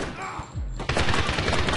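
Rapid bursts of gunfire in the video game Medal of Honor, a dense, loud volley that follows a short low rumble and keeps rattling steadily to the end.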